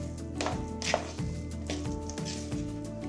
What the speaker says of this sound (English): So I'm going to give this another good mix